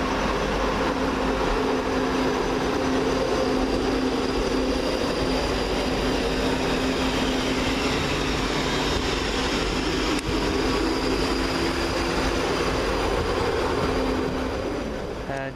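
A First ScotRail class 334 electric multiple unit, 334010, pulls out of Helensburgh Central station on a 09:30 service, giving a steady, fairly loud rumble with a constant motor whine throughout and no gaps.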